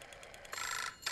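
A telephone rings in the video game Obduction, two faint, brief bursts of electronic ringing separated by a short gap, heard alone without talk.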